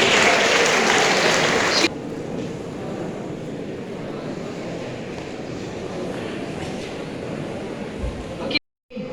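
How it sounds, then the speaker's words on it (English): Audience applause at a school award ceremony in Kalimpong, loud and dense at first, then continuing as steady, softer clapping before cutting off near the end. "Yes, you all keep on clapping"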